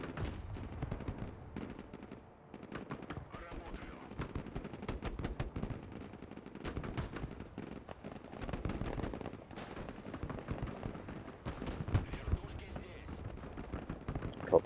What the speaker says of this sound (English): we can pepper the infantry with the mortars.